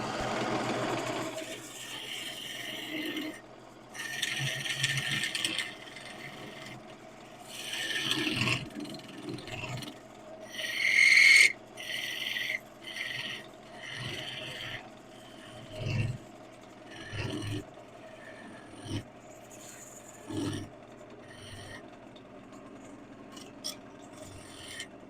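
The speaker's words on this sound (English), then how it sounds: "Spindle gouge." Spindle gouge cutting a spinning piece of wood on a lathe, giving intermittent rasping, scraping bursts over a steady motor hum, with short pauses between cuts.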